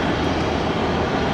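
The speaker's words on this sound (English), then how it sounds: "Those tiny engines." Aircraft engines roar at an airport, a steady, loud, broadband rumble and whine close by with no talk over it.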